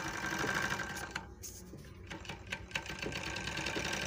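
An overlock sewing machine stitching fabric, a steady fast mechanical whirr close up that pauses briefly and resumes with light clicking.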